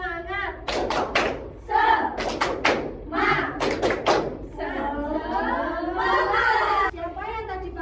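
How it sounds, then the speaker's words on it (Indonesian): A class of second-grade primary school children standing for a rhythmic spirit clap, bursts of sharp unison claps in patterned groups alternating with chanted voices, close and loud in a classroom. "Oke, tepuk semangat."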